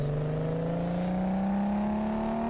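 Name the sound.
Maserati Quattroporte engine revving on dyno test, Car Mechanic Simulator 2015 video game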